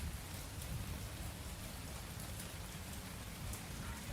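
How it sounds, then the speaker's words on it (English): Steady rain in the game Mon Bazou patters densely and evenly, a constant wash of drops with no voices, fairly loud and close throughout. "Especially while it's raining."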